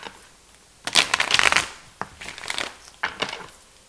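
Tarot cards are shuffled close up in three short riffling bursts, each a crisp, papery flutter with brief pauses between.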